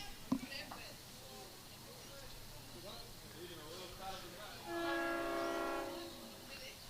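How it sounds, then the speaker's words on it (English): A train passes in the background at an outdoor lawn bowls final, its horn sounding as a distant sustained tone under quiet commentary and faint ambient noise. "Just hear the train in the background."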